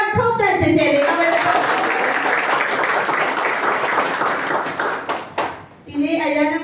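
Audience applause at a Burmese business and motivation talk, a dense sustained wash of clapping that briefly dips near the end before a voice resumes.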